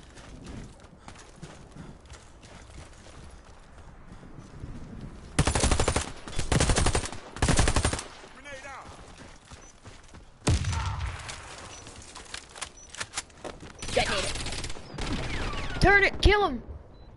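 Rapid bursts of automatic gunfire from a tactical shooter match with a planted bomb, loud and close, in several clustered volleys amid scattered single shots and game ambience; a voice speaks briefly.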